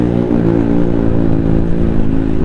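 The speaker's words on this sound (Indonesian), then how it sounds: "suara knalpot ini." A motorcycle's exhaust drones loudly and steadily up close, a low, rumbling engine note with slight revving throughout.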